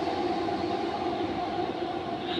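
A steady rumbling train hum in a horror video game, with a constant low drone, continuous and fairly loud, no voices over it.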